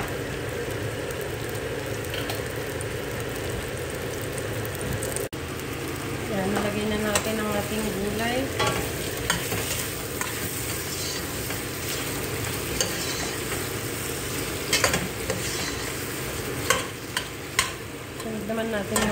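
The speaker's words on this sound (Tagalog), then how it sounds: "Lagyan natin mag medium brown yung ating sibuyas at bawang bago natin ilagay yung parme." Onions and garlic fry in a pan for beef rib kaldereta, browning to medium: a continuous loud sizzle with repeated spatula scrapes and stirring clatter, growing busier and louder toward the end.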